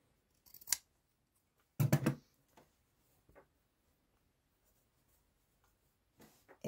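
Scissors snip through denim to trim fabric below a seam line, a few crisp close cuts with one strong double snip among quiet pauses and faint handling noises.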